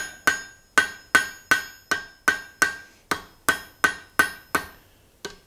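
A hammer strikes hot steel rods at the forge to weld them together, roughly a dozen loud ringing blows in a steady, even rhythm, then a brief pause and one final tap.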